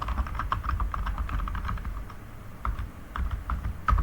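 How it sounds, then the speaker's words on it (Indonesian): Keys tapped on a computer keyboard in short irregular bursts, close and fairly quiet, with brief pauses between runs and no voices. "saya sudah mengetik huruf-huruf tapi tidak masuk"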